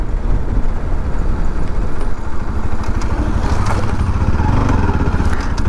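A restored Bajaj Pulsar NS200 motorcycle rides along with a loud, close, continuous engine drone, its rough even pulsing held steady throughout, with no talking.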